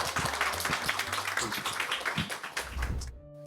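An indoor audience at an office book concert in Yeouido gives sustained, dense applause to welcome Yonsei University professor Kim Hak-cheol. The clapping fills most of the moment before cutting off abruptly.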